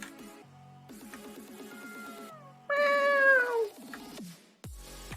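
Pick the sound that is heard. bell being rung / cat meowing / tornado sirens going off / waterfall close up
cat meowing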